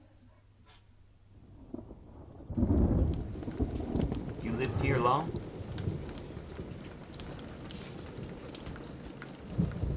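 Heavy rain from a thunderstorm pours steadily outdoors, starting faint then swelling into a loud continuous wash with low rumbles, while people talk over it.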